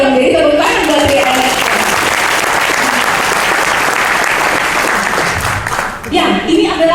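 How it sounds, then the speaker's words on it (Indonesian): Loud audience applause at a business presentation in Bandung, dense and sustained clapping from a large crowd filling the whole stretch close up, easing slightly near the end. "Jadi tepuk tangan buat dia."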